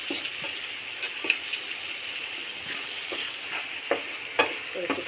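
Hilsa fish with winter vegetables, flat beans, spring onion and potato, sizzles steadily in a pan, with a spoon scraping and stirring now and then; no one speaks.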